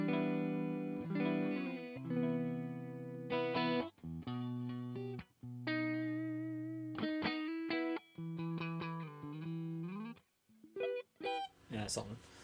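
A clean electric guitar played through a Seritone Otis Mini 20 amp rings out a series of sustained chords and notes with short gaps between them, close and clear, ending in a few quick plucks.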